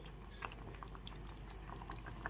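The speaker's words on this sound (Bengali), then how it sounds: "এখন 2 মিনিট ফুটিয়ে নিচ্ছি।" Rohu masala fish curry simmering in a pan on a gas stove, a faint, steady bubbling with small scattered pops, quiet and close.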